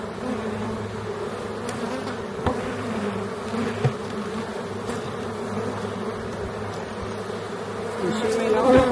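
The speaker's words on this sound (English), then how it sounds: "There's a lot of bees for no queen." Honey bees in a queenless hive hum in a dense, continuous drone, close and steady, with a few brief knocks and a slight swell near the end.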